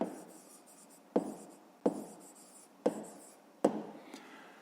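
Pen writing digits by hand on paper for a fifth-grade decimal multiplication exercise, a steady scratchy rubbing broken by four sharp taps as the tip lands, close and alone without talk.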